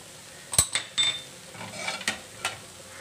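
Spices and vegetables are stirred together in a pan, a few quick utensil scrapes and clinks against the metal over a faint background sizzle, close and brief with no talking.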